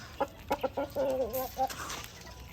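Chickens and young chicks on a Philippine backyard farm chirp and cluck nearby in short bursts, with a longer run of clucking calls in the middle and light background noise.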